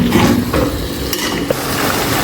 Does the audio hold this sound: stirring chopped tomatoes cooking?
yes